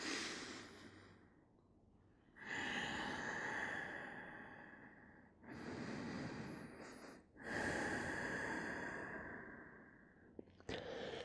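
Slow, deep breaths from a person lying on a yoga mat during a class, each long airy inhale and exhale close and clear, about four full breath cycles with short pauses between them and no talking.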